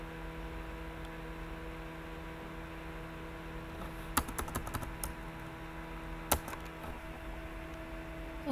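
Someone types on a computer keyboard in short bursts of quick keystrokes, faint and close over a steady electrical hum, while searching for a safe browser.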